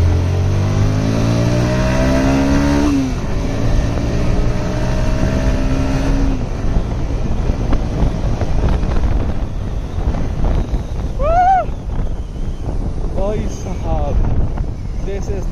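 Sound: vehicle driving fast on road

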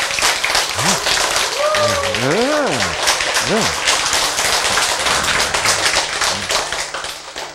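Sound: audience clapping hands once

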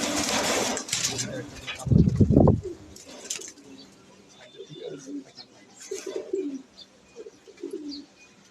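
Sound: pigeons cooing

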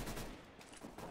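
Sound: gunshots in the video game Counter-Strike: Global Offensive

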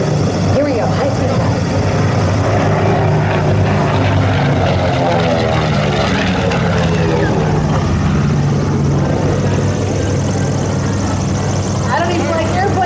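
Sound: propeller bomber aircraft high-speed flyby

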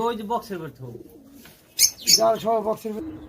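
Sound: pigeons cooing at a pigeon farm

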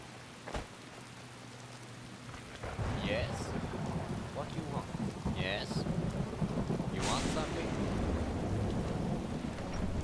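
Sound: thunder and rain in the video game Skyrim

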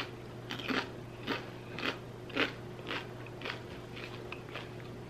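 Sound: crunching on air-fried potato chips

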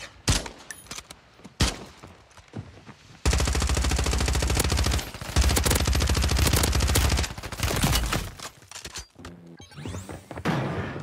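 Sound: sniper rifle shots in Warzone 3 video game

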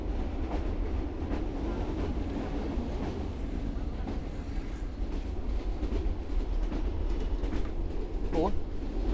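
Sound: train running on rails

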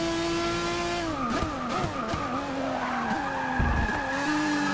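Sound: race car braking hard, tires skidding, Forza Motorsport 6 video game

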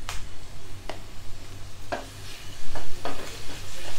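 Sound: stirring ginger garlic paste into sautéed onion in oil

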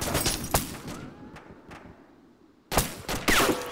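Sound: grenade explosions in video game Arma 2

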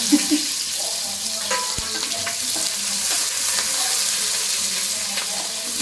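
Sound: onions and cumin frying in hot oil

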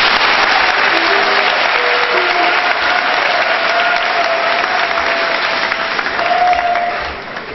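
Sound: congregation applause at funeral

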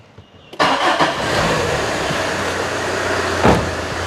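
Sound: old Tata car engine starting and running

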